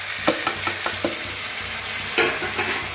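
Ridge gourd frying in a pan, loud continuous sizzle with a handful of sharp scraping stirs of a spatula spaced through the clip, no voices.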